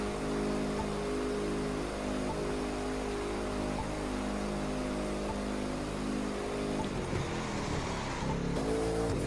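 A muscle car's engine in The Crew 2 racing game drones loudly and steadily, its harmonic roar holding and rising as the car speeds up, with a brief shift in tone near the end and no talking.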